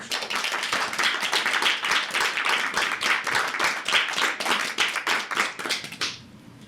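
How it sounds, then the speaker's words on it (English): A round of applause at a school board meeting: brisk, dense clapping from a small group, fairly close and steady for about six seconds before stopping abruptly. "I'd like to see us give you a round of applause"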